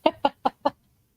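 A chicken clucks four times in an even rhythm, with short, loud, close calls and no talking.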